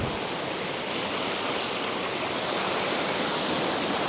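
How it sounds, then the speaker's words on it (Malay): Mountain stream at Fraser's Hill rushing past a small dam, a loud, dense, continuous watery roar filling the scene close by, with no voices. "Tengok air ni semacam ada empangan kecil rasanya."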